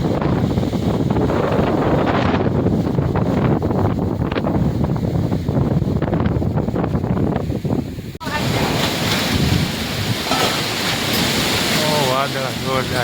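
Strong gusty wind blows hard across a wheat field in Gordka village ahead of rain, roaring loudly and continuously against the microphone with heavy buffeting throughout.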